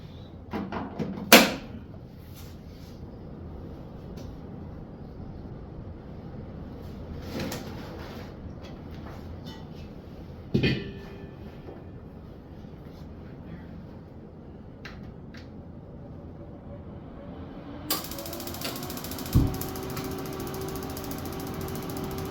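A propane heater is switched on inside a chilly small house under construction: a few scattered mechanical clicks and knocks, then a steady humming roar with a tonal whine starts near the end and keeps going.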